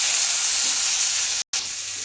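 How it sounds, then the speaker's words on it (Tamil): Tomatoes sauté with already cooked onions in a pan, a steady, moderately loud hissing sizzle that cuts out for a split second, then resumes slightly quieter; no talking. "தக்காளி, நல்லா சேர்த்து வதக்கி விட போகிறோங்க"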